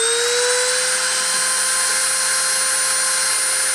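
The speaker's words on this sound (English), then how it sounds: "I'm going to start the spindle and start the deposition" A high-speed spindle spins at 30,000 RPM, giving a loud, steady high-pitched whine with a constant tone that holds throughout and never drops.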